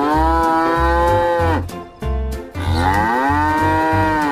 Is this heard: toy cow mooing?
yes